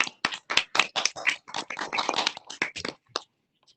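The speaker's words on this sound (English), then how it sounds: "So let's give a round of applause for Tim's service." A few people clap for a retiring board member at a school board of education meeting: close, uneven bursts of claps in a quick irregular rhythm that thin out and stop after about three seconds.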